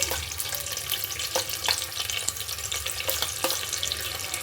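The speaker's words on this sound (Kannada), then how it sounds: "ಬೆಳ್ಳುಳ್ಳಿ ಹಾಕ್ಕೊಂಡು ರೋಸ್ಟ್ ಮಾಡ್ಕೊಳ್ಳಿ" Onion and garlic roast in a hot pan, giving a steady, close crackling sizzle with occasional sharp pops and faint scraping stir sounds throughout.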